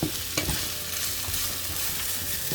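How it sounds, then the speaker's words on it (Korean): Steady loud sizzling of onions being caramelized in a pan, with occasional scraping stirs, close and continuous, no voices. "양파를 볶아줄 건데 중요한 건 흔히들 카라멜 라이즈라고 하는 상태로 볶아줍니다."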